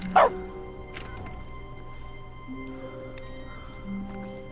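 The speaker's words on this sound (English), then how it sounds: "Okay, I disabled the bark." A single short, loud dog bark fires from a console command in the video game The Stanley Parable, right at the start, followed by quiet game ambience with soft tonal hum.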